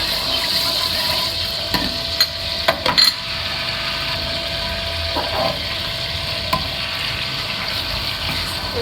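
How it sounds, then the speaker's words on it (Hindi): Chopped tomatoes fry in two spoons of oil for an achar gosht salan, making a steady moderate sizzle under a faint constant hum, with a few sharp clinks of a utensil near the middle. "चॉप किए हुए टमाटर इसमें डाल दिए मैंने, उसकी थोड़ी सी बुनाई करनी है।"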